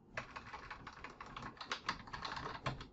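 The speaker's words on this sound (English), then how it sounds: "let's go ahead and let's type in event" Rapid keystrokes on a computer keyboard, a dense flurry of close, crisp clicks with no voice.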